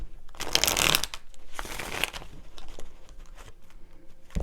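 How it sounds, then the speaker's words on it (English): Tarot cards are shuffled close to the microphone in a few quick riffling bursts, the loudest near the start, followed by softer card handling and taps. "4 shuffles"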